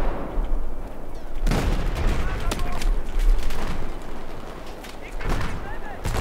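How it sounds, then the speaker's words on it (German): Heavy gunfire in a Battlefield 4 multiplayer match: dense, loud bursts of rifle and automatic fire crackle continuously, with sharper volleys standing out over the roar of battle. "ich werde beschossen. Schwerer Beschuss."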